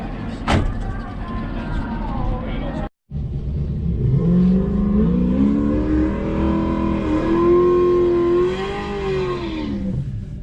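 Two drag-strip cars, a cop car and an auction Corvette, rev hard at a quarter-mile track near the microphone. Loud engine roar climbs and falls through the run with a brief gap, and a faint voice is barely present.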